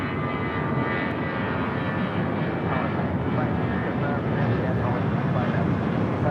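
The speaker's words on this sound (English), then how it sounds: "United Airlines Flight 1185, an A320, next departure" United Airlines Airbus A320 at LAX as the next departure, its jet engines giving a steady, loud, close roar that swells slightly toward the end.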